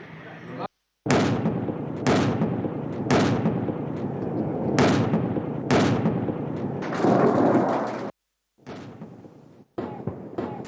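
Various weapons fire during an Algerian army military exercise, with dense, sustained blasts and rapid bursts filling most of the stretch, broken by abrupt cuts, and loud throughout.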